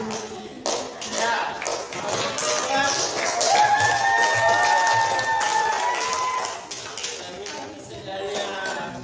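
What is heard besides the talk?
group applause, hands clapping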